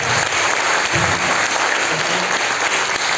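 A church congregation breaks into dense, steady applause that fills the room evenly for a few seconds at close range.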